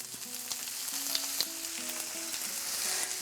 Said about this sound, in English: and they'll start to saute very gently